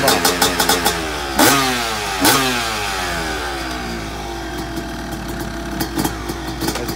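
A freestyle motocross motorbike engine runs steadily, with several sharp revs and throttle blips that sweep up and down, then settles back into a rough idle with occasional bursts, close and loud throughout.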